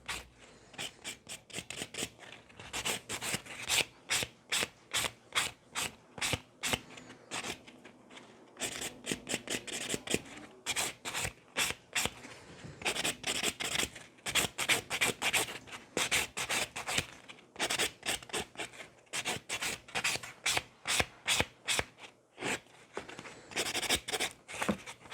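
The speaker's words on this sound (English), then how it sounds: "the buffing has to be very gentle" Gentle buffing of a cured gel nail under top coat, heard as a long series of quick, close scratchy rubbing strokes in bursts with brief pauses, steady and fairly soft.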